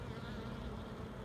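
Honey bees swarm-buzzing inside an opened beehive, a dense steady drone that fills the whole moment, quiet and close with no voices over it.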